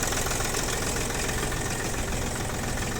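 The engine of an Iseki TU200 four-wheel-drive Japanese mini tractor idles, a dense, steady mechanical rumble with a continuous knocking clatter, loud and close throughout with no voices.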